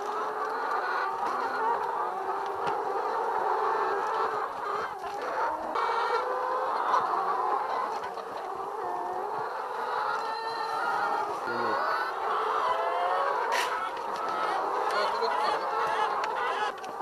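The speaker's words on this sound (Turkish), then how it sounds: "Gördüğünüz gibi tavuklarımız bunlar." Laying hens of Lohmann and Leghorn breeds cluck steadily in a coop, a dense continuous chorus of many birds close by, with no talk over them.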